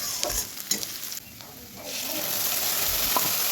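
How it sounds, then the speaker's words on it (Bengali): Black cumin, two dried red chillies and chopped onion hitting hot mustard oil in a kadai, giving a bright, crackling sizzle with a few sharp pops at first, then settling into a steady, loud hiss. "ওই কড়াইয়ে আর কিছুটা সর্ষের তেল দিয়ে ফোড়নের জন্য দিয়ে দিচ্ছি কালো জিরে, দুটো শুকনো লঙ্কা আর কুচনো পেঁয়াজ।"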